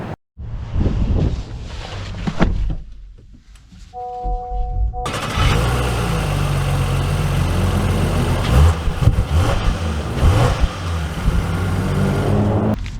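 A 2024 Honda Pilot EXL SUV engine starts up and runs steadily as the vehicle pulls away, a continuous low rumble with some road noise, preceded by a few soft tones and quieter cabin sounds.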